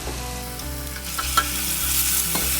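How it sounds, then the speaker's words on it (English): Garlic and chili flakes sizzle steadily in hot olive oil, a close, continuous frying hiss broken by a few soft clicks of stirring. "Once you've sauteed the olive oil, garlic, and chili flakes"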